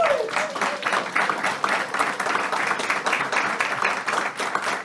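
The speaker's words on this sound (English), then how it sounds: "can we have a robust round of applause for our panel guest, Maria Rocha" An audience claps warmly for panel guests at a First Friday words-and-music event, a dense, even round of applause filling the room at close range for several seconds.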